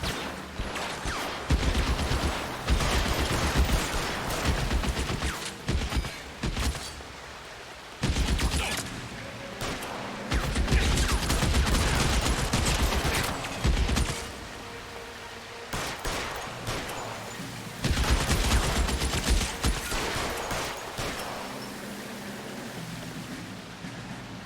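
Sustained rifle fire from the video game L.A. Noire, .30-06 Springfield rounds: long, loud, dense volleys of shots in several bursts separated by brief lulls.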